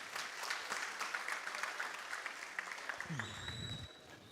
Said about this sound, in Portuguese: Vamos dar uma salva de palmas para esses irmãos